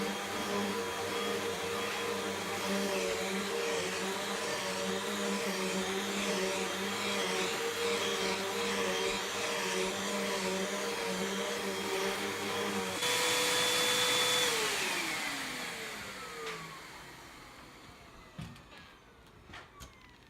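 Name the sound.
Hoover Whole Home Elite Pet vacuum cleaner vacuuming a floor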